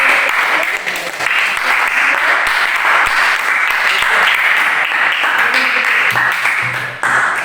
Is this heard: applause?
yes